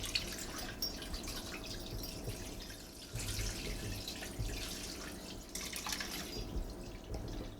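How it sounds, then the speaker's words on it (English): Tap water runs steadily into a pot to cover a corned beef brisket, a continuous close splashing and trickling pour with no talking. "all you do is cover it with water"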